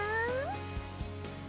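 A cat in the visual novel Summer Pockets Reflection Blue gives one clear, close rising meow that fades into a quiet, steady background.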